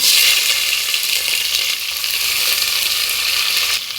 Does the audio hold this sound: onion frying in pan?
yes